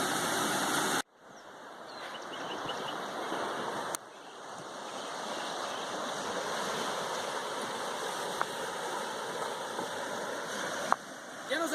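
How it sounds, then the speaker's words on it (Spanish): A river runs just downstream of where the Río Verde meets the Río Santiago in Jalisco, a constant broad rush of flowing water that stays fairly loud throughout, broken by a few abrupt bumps and cuts. "Ya nos encontramos unos metros río abajo de la confluencia del río Verde y del río Santiago."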